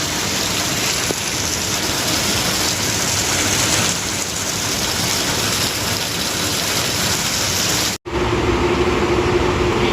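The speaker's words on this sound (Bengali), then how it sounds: "দেখুন বন্ধুরা কীরকম বৃষ্টিটা হচ্ছে" Heavy rain falls in a steady, dense hiss that fills the scene, loud and unbroken apart from a brief cut near the end.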